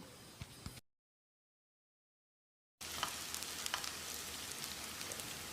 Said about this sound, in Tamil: வெங்காயத்தை செவந்து வர்ற அளவுக்கு வதக்கணும்.